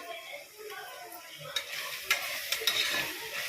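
Spices being stirred into chicken biryani masala in a pan, a soft sizzle under scraping spoon strokes with a few sharper clinks toward the end.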